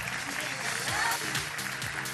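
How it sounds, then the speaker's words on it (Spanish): Audience applause at an official TV presentation of the 2014 Brazil World Cup broadcast, a steady wash of many hands clapping at moderate distance, with voices speaking over it. "Aplausos."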